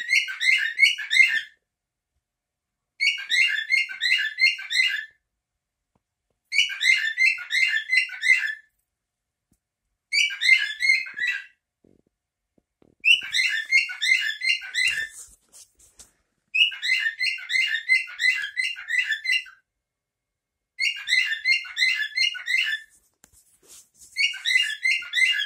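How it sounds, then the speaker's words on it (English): A pet bird chirps in about eight quick, bright bursts of rapid twittering notes, each lasting a second or two and separated by short silent pauses, fairly close and alone with no talk. "Big, beautiful, brave bird."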